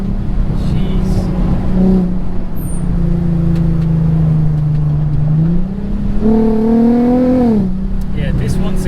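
A Volkswagen Golf R32 fitted with a swapped-in 3.6-litre R36 engine revs loudly and close, with a steady low drone and its pitch climbing sharply near the end. Voices are faintly present underneath.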